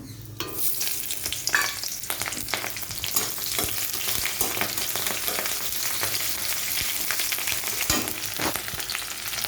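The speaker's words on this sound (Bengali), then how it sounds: "তো পাশে কড়াই বসিয়ে দিয়েছি" Chopped onion fries with tempering spices in a hot wok, with a loud continuous sizzle and crackle and frequent scraping stirs throughout, close by and with no talking.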